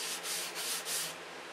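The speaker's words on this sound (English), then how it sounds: "sanding the wrinkles out of it, getting it flat with 320" Fine 320-grit sandpaper rubbed by hand over a wood finish to flatten it, heard as steady back-and-forth scratchy strokes, close and fairly loud, with no talking.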